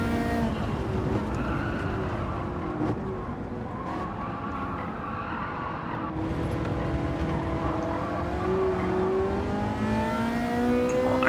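A Ferrari F40 engine drones and revs steadily in a racing video game, rising and falling through gears with some tire noise, loud and continuous with no talking.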